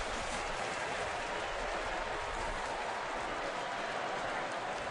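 Florida Gator fans applaud at a Florida versus Georgia college football game, a steady, dense wash of clapping from a large stadium crowd that holds evenly for the whole stretch.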